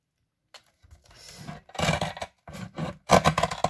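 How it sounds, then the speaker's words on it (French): Scissors or a blade cutting through thick, layered paper, several close rasping, crunchy bursts with short pauses between. "Donc là, je vais juste couper..."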